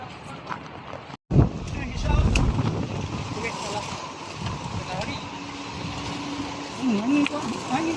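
Wind blows outdoors during a giant tree-felling job in Malaysia, a steady broadband rushing that fills the whole stretch, with a brief dropout early on and faint mechanical tones near the end.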